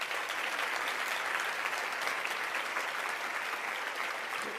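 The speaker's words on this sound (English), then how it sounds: "So let's give a round of applause to all of those listed on the screen." A room full of people at an annual leadership event claps steadily for several seconds, a dense, even patter of hands that holds at a constant level with no talking on top.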